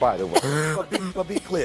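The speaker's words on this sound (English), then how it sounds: "It's a cough" A man gives a brief cough and throat clearing in a studio during a sports talk show, with people talking around it.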